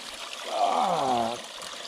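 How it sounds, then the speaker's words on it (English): A small mountain stream trickling beside a trail, a close, gentle gurgle that swells in the middle then eases back into a quiet watery background, with no talk. "Another little stream stop."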